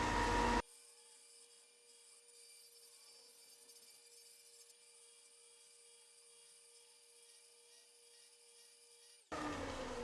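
Steady, faint abrasive whirr of a power sander working on wood, running continuously for several seconds before stopping abruptly.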